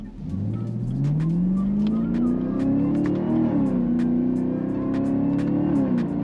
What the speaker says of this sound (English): It's got a nice supercharger whine.